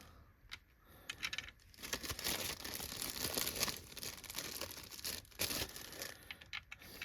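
Small plastic baggies for holding screws crinkle and rustle up close during vacuum cleaner disassembly, a quiet, continuous crackle with a few sharper crisp bursts, heard alone.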